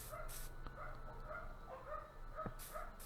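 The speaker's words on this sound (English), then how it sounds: "My neighbor's dogs are barking really loud in the back." Several dogs barking from a neighbor's backyard, heard faintly in the background as intermittent, muffled barks spread across the stretch.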